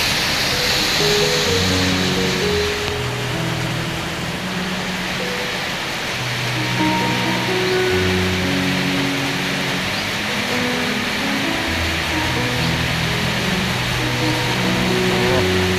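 Heavy rain pours steadily and loudly under dark clouds, heard from a roadside shelter, a dense continuous roar with no voices.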